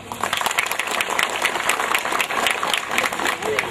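An audience applauds with steady, dense clapping that holds moderately loud throughout, with voices blending into the crowd sound.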